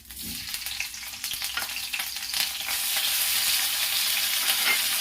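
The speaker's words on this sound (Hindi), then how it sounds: "पनीर को फ्राई करूंगी" Paneer pieces frying in hot mustard oil, a dense continuous sizzle that grows louder and fuller partway through, with scattered stirring scrapes and crackles, close up and with no talking.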